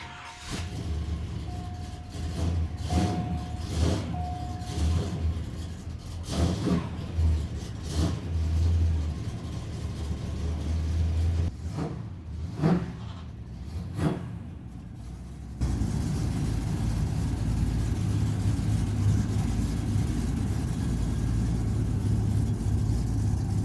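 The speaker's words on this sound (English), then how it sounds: "That means we're going to start this car, back it out." A car with a swapped small-block Chevrolet engine cranks and fires in an open garage, with intermittent bursts and revs before it settles into a steady, louder running rumble for the final stretch.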